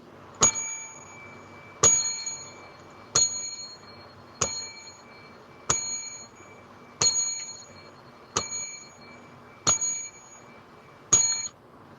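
Bright bell dinged about ten times in an even, unhurried rhythm, each strike ringing clearly and decaying before the next, close and alone.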